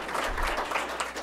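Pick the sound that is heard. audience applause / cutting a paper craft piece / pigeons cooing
audience applause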